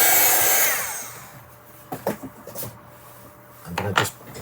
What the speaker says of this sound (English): I will use the heat gun again